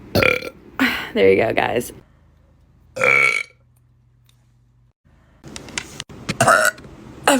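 A woman lets out several loud, close burps, separated by near-silent pauses, with brief speech between them.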